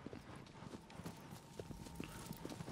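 Steady clip-clop of a horse's hooves at a trot in the video game Shadow of the Colossus, rhythmic and fairly faint under a soft ambient game background.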